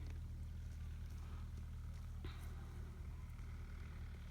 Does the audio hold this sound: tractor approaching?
yes